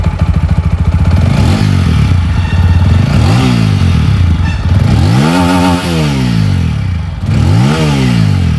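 A TVS Apache RTR 200 4V motorcycle with a dual barrel exhaust is revved repeatedly, loud close blips that swell and fall back to a throbbing idle several times in a row.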